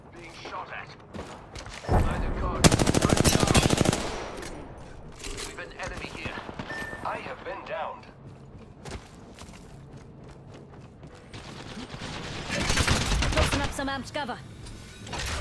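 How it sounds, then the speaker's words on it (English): Bursts of automatic gunfire from Apex Legends combat, a loud sustained volley early, scattered shots and mechanical clicks in between, then another heavy burst near the end, with voices talking over the action. "I am taking fire, friends."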